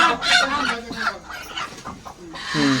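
Free-range village hens at a small home poultry farm cluck and chatter close by in a steady stream of short calls, with a brief louder squawk near the end.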